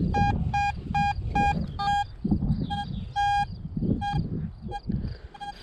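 A Vista X metal detector with a 14-inch coil, swept over a buried target on a rubbish dump, gives a run of sharp, bright beeps in uneven bursts over low rumbling outdoor noise.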